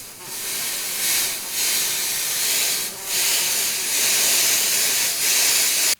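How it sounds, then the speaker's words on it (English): Bursts of bug spray hiss in several long sprays with brief pauses between them, close and fairly loud. "What do you think bug spray's for?"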